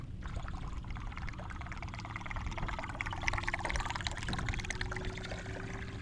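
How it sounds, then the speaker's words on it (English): A double buzzbait fishing lure with its blades set apart churns steadily across the water surface, giving a continuous gurgling, splashing rush that holds at an even level throughout without clacking. "This is the double buzz with the blades separated so that it's quiet."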